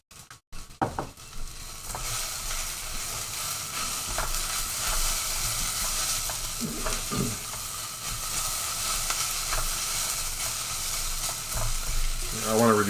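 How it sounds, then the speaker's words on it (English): Fenugreek seeds pop and sizzle in hot oil in a pan, a dense continuous frying hiss with scattered crackles and occasional stirring scrapes while cooking a duck vindaloo, close and steady throughout with no speech. "We can still hear the fenugreek seeds popping."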